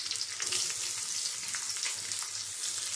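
Garlic and sliced onion sizzle steadily in a hot pan, a close, bright, crackling fry that runs unbroken throughout.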